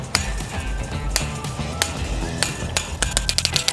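Mini bolt cutters snip through chain link fence wire while a gate is added to an existing fence, giving several sharp metallic clicks and clinks, close and fairly loud, the last ones coming in a quick run.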